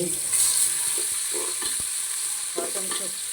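Pulao spices (cinnamon, cardamom and bay leaf) are stirred in a hot pan, giving a steady low sizzle with several sharp scrapes and knocks of the spoon spread across the moment.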